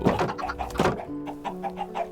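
Chickens in the Minecraft video game give a few short bursts of clucking, followed by a series of softer, higher tonal clucks, close and clear with no talk.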